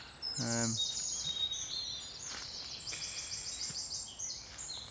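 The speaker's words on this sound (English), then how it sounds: "bird songs in full swing." Birdsong in sunlit woods around dawn, several high chirps and warbling calls at moderate distance over a quiet background, with a brief low vocal sound early on.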